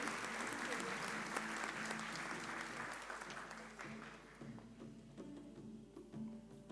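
Audience applause at a student film festival award ceremony, a steady wash of clapping that welcomes a university vice-rector to the stage, fading toward the end as voices and a tone come in underneath.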